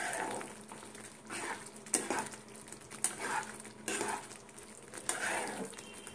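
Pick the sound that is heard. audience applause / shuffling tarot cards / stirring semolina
stirring semolina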